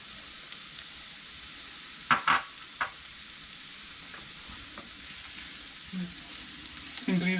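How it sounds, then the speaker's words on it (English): Onions and capsicum sauté over a high flame with a soft, steady sizzle, broken by a few sharp clatters of a spatula against the pan partway through and some stirring near the end. "Increase the flame to high and saute them well."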